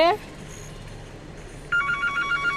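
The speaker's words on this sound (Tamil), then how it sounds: "யாரோ ஃபோன் அடிக்கிறாங்க" A phone rings in the horror video game The Baby in Yellow, a short electronic ring that cuts off and then starts again as a bright, repeating trill near the end.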